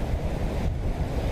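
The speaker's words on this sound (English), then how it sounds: "It's getting real windy." A strong wind roars steadily outdoors ahead of an approaching storm, buffeting the microphone with dense low rumbling and no voices.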